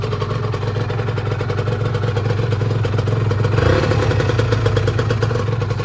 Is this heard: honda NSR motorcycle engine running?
yes